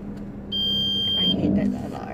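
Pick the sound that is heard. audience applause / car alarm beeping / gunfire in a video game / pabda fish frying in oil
car alarm beeping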